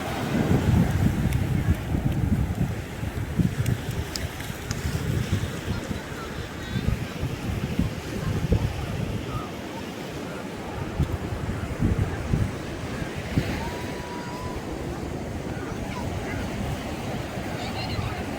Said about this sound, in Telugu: చూడండి ఫ్రెండ్స్ ఎంత బాగుందో బీచ్ ఇక్కడంతా